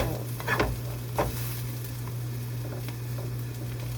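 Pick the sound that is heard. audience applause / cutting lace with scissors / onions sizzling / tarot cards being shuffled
onions sizzling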